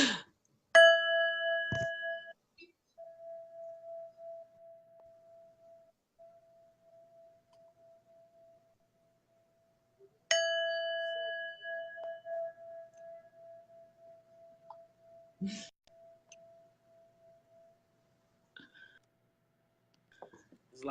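A small bell rung twice, each a clear ding ringing out and slowly fading, with quiet voices and soft sounds in between.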